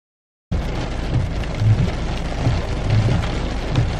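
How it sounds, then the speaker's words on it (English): Heavy rain pouring down at night outside a Chick-fil-A drive-thru, a dense, loud, continuous wash of downpour that starts abruptly after a short silence, with low rumbling underneath. "it's pouring down rain"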